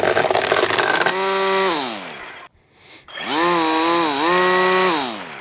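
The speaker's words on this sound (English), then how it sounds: "you can probably hear too that Black Diamond line is actually pretty loud" An Echo DSRM-2600 string trimmer with Black Diamond trimmer line runs loud and close, revving up and down in sweeping whines, dropping briefly to near idle before surging back to high speed.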